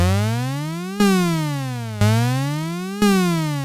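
A bright Arturia MicroFreak synth tone with glide turned up repeatedly jumps to a note then glides smoothly downward, four evenly spaced swoops with no voices.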